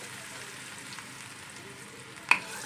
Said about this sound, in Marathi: तेल थोडं गरम झालेलं आहे आपलं आता यामध्ये बटर घालायचं आहे यामध्ये आपण थोडासा कांदा घालणार आहोत